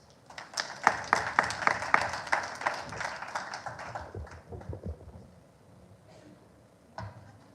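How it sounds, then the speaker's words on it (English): Audience applause at an autism awareness seminar: a burst of clapping that swells quickly, holds for a few seconds, then thins to scattered claps and fades, with a last stray clap near the end. "A round of applause, please."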